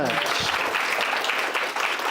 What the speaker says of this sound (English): I'm clapping for them too